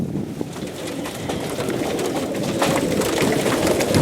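Young pigeons coo on a transporter, soft throaty calls set in a broad rustling wind-like wash that slowly builds in level, with no talk.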